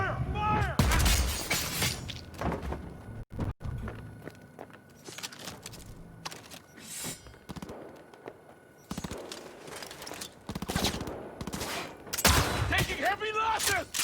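A squad firing weapons in the Cyberpunk video game, with bursts of gunfire and sharp cracks in clusters, some impacts and clatter between volleys, and voices shouting over the fighting.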